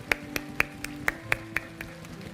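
Evenly spaced, crisp claps at about four per second ring out in a quiet Korean church sanctuary during Sunday worship, rising above a soft background hum with no voices.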